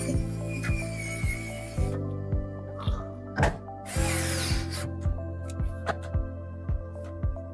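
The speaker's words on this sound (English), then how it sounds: "Using an electric screwdriver is a game changer." An electric screwdriver drives screws into an RTX 3070 graphics card in short whirring bursts, with repeated clicks and clacks of parts being handled between runs, close and moderately loud.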